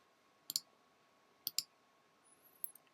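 Two pairs of sharp double mouse clicks sound close and clear against near silence, about a second apart, with a faint tick trailing at the end.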